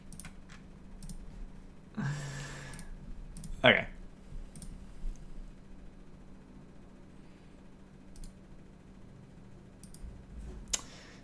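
Faint, sparse clicks from a computer mouse tick in a quiet room, scattered singly and in short runs, with a brief spoken word and some background rustle.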